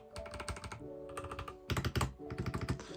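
Steady typing on an Epomaker EP84 mechanical keyboard, with clear clacky keystrokes in quick bursts and a brief pause near the middle, close and loud.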